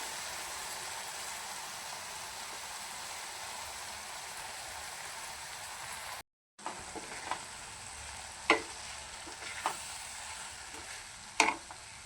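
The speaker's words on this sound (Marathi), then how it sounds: "आणि चांगला मिक्स करून 5 मिनटं फ्राय होण्यासाठी ठेवून देऊया आपण." Soaked masoor lentils fry in a pan with a soft continuous sizzle, joined after a brief cut by a few sharp scraping clinks of a spoon stirring them, quiet and close.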